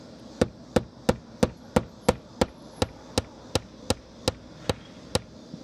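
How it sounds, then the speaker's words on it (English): A hammer drives nails into house siding during a Habitat for Humanity home build, with about fifteen crisp, evenly spaced strikes in a steady rhythm, close and clear. "So I need you to put a nail in the center of that slot."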